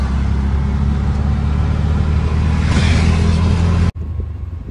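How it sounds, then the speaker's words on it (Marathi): Continuous loud engine rumble and road noise from inside an auto-rickshaw on a ride through a city, steady throughout and cutting off abruptly near the end. "रिक्षातच चाललोय आता पण."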